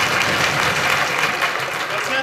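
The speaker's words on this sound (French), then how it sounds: "On peut les applaudir." Audience at a dress rehearsal of a stage show of Singin' in the Rain applauding, a loud, dense, continuous wash of clapping from many people filling the whole moment.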